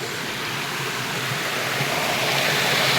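A waterfall at a mountain falls, a dense continuous roar of rushing water, loud and steady with no voices.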